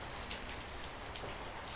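Heavy, gusty rain in Northern California pours down in a dense, continuous hiss of drops striking surfaces, steady and fairly faint throughout.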